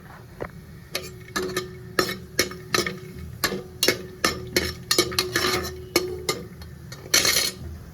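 Whole cinnamon pieces, cloves and cardamom pods drop into a pan for tomato rice, giving a run of sharp clicks and taps against the metal that repeat steadily over several seconds, close and fairly loud.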